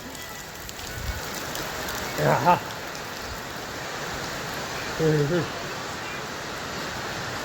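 Steady rain pours down on an Indian farming village as a constant hiss, with two brief bursts of a voice speaking faintly in the middle.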